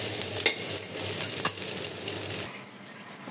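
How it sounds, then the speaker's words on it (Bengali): Green chilies, onion and garlic frying in a pan: a bright, close sizzle with a couple of stirring scrapes, which drops abruptly to a faint hiss for the last second. "কালিজিরা ভর্তার জন্য আমি কাঁচামরিচ ও পেঁয়াজ রসুনটা ভেজে নিচ্ছি"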